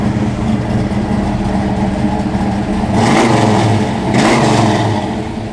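A 1980 Chevrolet Camaro Z28 V8 engine runs steadily with a loud, rumbling idle, then revs up twice in quick succession, each swell rising and falling back, heard close and alone.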